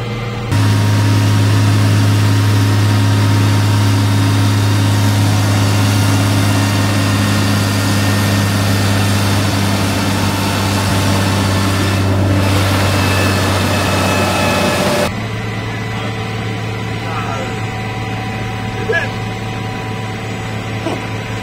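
A car engine works under load on a dynamometer during a dyno day, a loud sustained drone holding steady before dropping away abruptly to a quieter idle-like hum with faint background noise.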